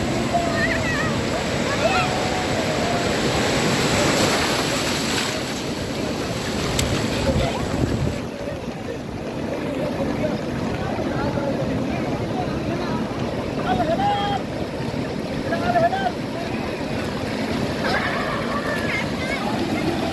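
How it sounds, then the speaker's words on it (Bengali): Big storm waves and strong wind roar on the sea at Cox's Bazar, a loud, steady wash with wind buffeting the microphone and people talking now and then. "কি পরিমাণ ঢেউ, সারাদিনই ঝড়ো বৃষ্টি এবং প্রচুর বাতাস এবং ঢেউ।"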